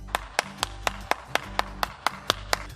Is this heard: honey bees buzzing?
no